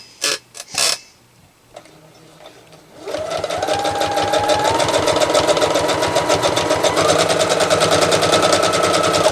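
A sewing machine runs steadily and loudly, stitching a quarter-inch seam on a tablet bag, after a few brief knocks and handling sounds at the start.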